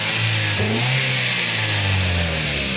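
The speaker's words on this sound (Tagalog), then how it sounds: "Palyado pala mga idol." Toyota Vios engine running rough with a misfire, a loud, steady mid-pitched drone that wavers unevenly as it revs, close up with no talking.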